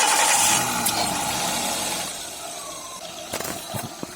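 A vehicle engine is started after a dynamo refit while battery charging trouble is checked: a short cranking burst settles into a quieter idle, followed by a few clicks and knocks near the end.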